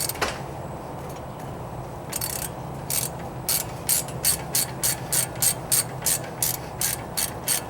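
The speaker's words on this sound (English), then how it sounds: "Alright, loosening up these bolts." Ratchet loosening the front brake caliper retaining bolts on a Mercury Villager or Nissan Quest, a close run of quick, even clicks in a steady rhythm, with no talking.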